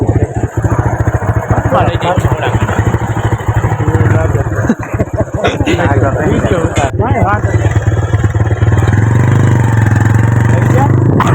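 A motorcycle engine runs close by with a steady rumbling throb, joined by people talking over it throughout.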